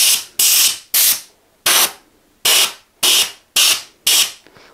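Compressed air blasts dust out of PC fans in repeated loud hissing bursts, about eight short sprays with brief pauses between them, close up and with no talking.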